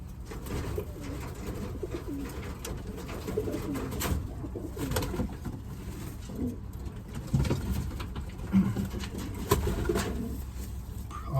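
Pigeons in a loft coo softly and repeatedly, several low throaty calls overlapping at close range over a quiet background, with no one speaking.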